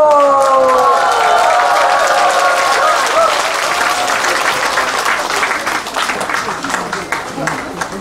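Concert crowd breaks into loud applause and cheering for a Pumba singer's performance, dense clapping with shouts and a voice calling out at the start, the clapping thinning slightly toward the end.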